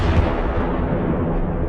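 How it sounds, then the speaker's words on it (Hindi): An animated space explosion of the star Antares sounds as a loud, deep, rumbling blast that roars continuously and fades only slightly, with no talking. "कितना भयंकर धमाका था, है ना?"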